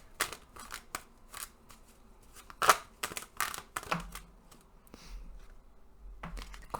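Tarot cards are handled and shuffled by hand in short bursts of crisp riffling and slapping, close and quiet, with brief pauses between the bursts.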